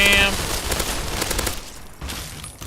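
Fallout 3 gunfire in the Capital Wasteland: a loud burst of rapid shots at the start, then a quieter rattle, a pause and a final shot, with some game noise mixed in.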